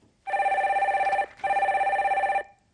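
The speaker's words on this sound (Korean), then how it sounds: "다음 전화 빨리 받아볼게요." A telephone rings in two long electronic bursts with a brief gap between them, loud and close, an incoming call on a Korean call-in broadcast show.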